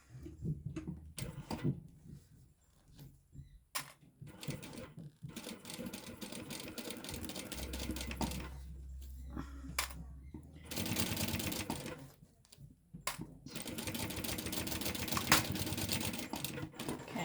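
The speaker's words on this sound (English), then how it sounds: "Let's sew on the connector now. We're just basting this on." A sewing machine bastes a connector onto a Bartleby sling bag in several short bursts separated by pauses, with a longer steady run at the end; quiet handling noises fill the gaps.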